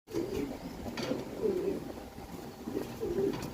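Pigeons of a red Danish pair cooing at a pigeon market, several soft throaty coos in a loose repeating rhythm, close by over a faint background murmur.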